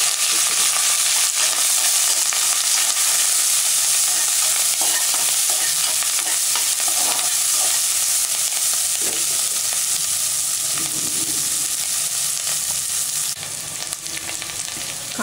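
Onions and curry leaves sizzle steadily in hot oil in a pan, a loud, continuous bright crackle with occasional stirring scrapes, heard alone without talk.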